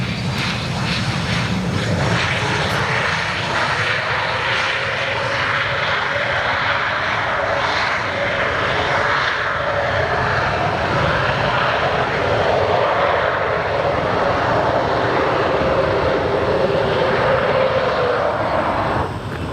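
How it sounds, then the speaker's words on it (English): A Cessna Citation business jet arrives at Austin-Bergstrom International Airport in Austin, Texas, its steady broadband engine roar holding loud and continuous throughout, with no talk over it. "Citation just came in from Sugar Land, Texas, which I believe is in the Houston area"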